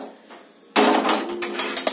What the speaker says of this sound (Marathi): आता तवा उतरून ठेवायचा आहे